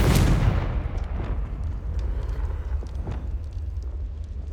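A Confringo explosion spell in Hogwarts Legacy lands as a loud, sudden boom at the start, then trails off into a long low rumble with faint crackles.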